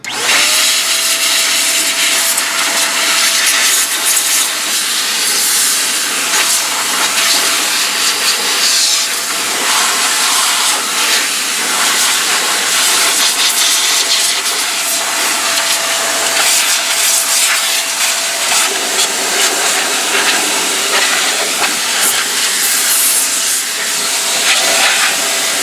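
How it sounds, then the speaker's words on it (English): Loud continuous hiss of a small air blower blasting fluid out of cracks and crevices in a car interior, steady and close throughout with no talk. "I'm going to take my little blower and just blow it out."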